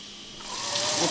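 Steam hissing from a pressure cooker's release valve while baked beans cook, a soft broadband hiss that swells louder over about a second, with a faint whistling tone on top.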